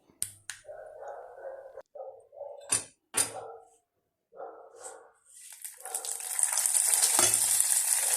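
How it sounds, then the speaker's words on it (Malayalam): Intermittent clatter and short knocks at first, then a loud, steady sizzling hiss of mustard seeds, chillies and curry leaves frying in hot oil takes over for the last few seconds. "ഇനി ഇതിൽ നിന്ന് കടുവറക്കാം കടുവും മുളകും കരിവേപ്പിലയൊക്കെ ഇട്ട്"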